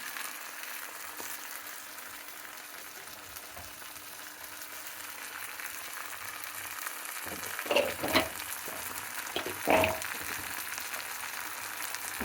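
Tomatoes frying in a pan, a soft continuous sizzle with a few louder stirring clatters near the end.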